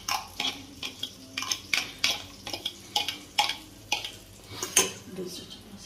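Onions and green chilies being stirred in a pan at home, a spoon scraping and clinking against the metal in a steady series of close, sharp strokes, with a faint sizzle underneath.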